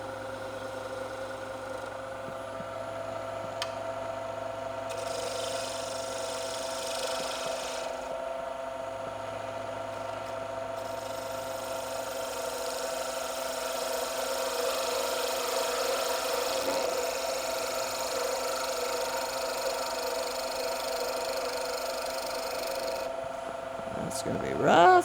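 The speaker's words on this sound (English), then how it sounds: "I'm just going to finish this with the roughing gouge." Pen blank spinning on a wood lathe, shaped with a roughing gouge, a steady motor hum with intermittent rasping cuts and rubbing through most of the stretch, ending in a louder clatter.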